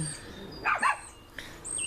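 Dogs bark outdoors in a neighborhood, two quick barks at middle distance followed by a fainter yip, with birds chirping in the background.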